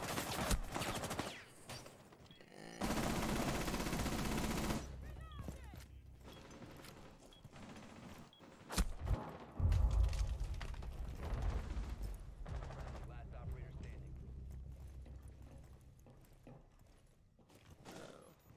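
Shotgun blasts in the tactical shooter Rainbow Six Siege, heard as a few sharp booming shots among bursts of mixed gunfire and clattering game noise that rise and fade at moderate volume.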